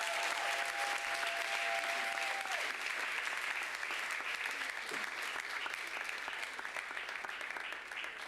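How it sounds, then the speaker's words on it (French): Congregation at a special French-language church worship service applauding and cheering in a sustained, even wash of clapping that tapers slightly at the end, with a brief voice underneath. "Est-ce qu'on peut les encourager par nos acclamations?"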